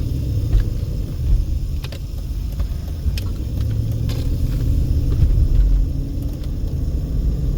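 Steady road noise rumbles from a vehicle moving through traffic on Eastern Avenue in Las Vegas, a continuous low drone with occasional faint clicks and swells.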